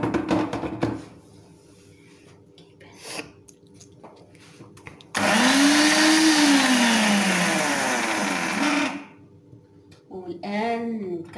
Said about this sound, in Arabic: غادي نستعملو في الخلاط الكهربائي،